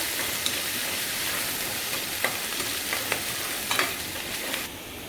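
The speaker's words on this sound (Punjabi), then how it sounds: "ਅਦਰਕ ਤੇ ਹਰੀ ਮਿਰਚ ਨੂੰ ਆਪਾਂ ਪਹਿਲਾਂ ਭੁੰਨ ਲੈਣੇ ਆ" Ginger and green chili for sabudana khichdi roast in a pan over a medium gas flame, giving a constant close hiss and sizzle with several short scraping stirs scattered through it, no voices.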